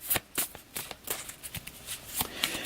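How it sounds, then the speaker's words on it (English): A deck of game cards for the Alien: Fate of the Nostromo board game is riffle-shuffled close by, with a series of quick crisp flutters and snaps in an uneven rhythm, alone with no talk. "Give that another quick shuffle."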